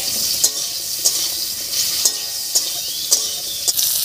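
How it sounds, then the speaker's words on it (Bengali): Bitter gourd pieces sprinkled with turmeric sizzle in hot oil. A spatula scrapes and stirs them in short strokes about every half second, close up with no talk. "উচ্ছেটা বেশ একটু ভাজা ভাজা হয়ে গেছে"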